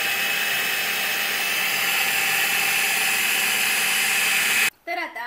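A food processor whirs continuously through a besan ladoo mixture of gram flour and ghee, a loud, steady, close grinding drone that cuts off abruptly near the end, followed by a brief voice.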